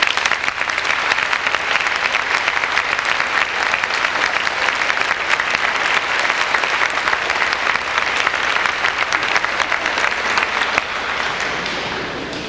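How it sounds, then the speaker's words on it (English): Sustained, loud audience applause at a 1993 high school band concert and senior awards night in Spencer, Iowa, honoring the graduating seniors, with dense steady clapping filling the room before tapering off at the end. "I would like to have you give them one nice big round of applause for me"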